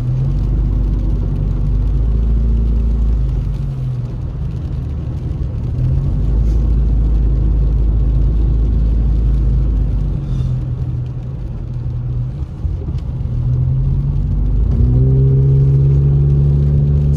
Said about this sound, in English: we're just doing a drive around Big Bear Lake